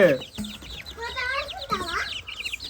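Seven chicks in a locked village coop chirp and peep in rapid, overlapping high calls, with a voice speaking nearby.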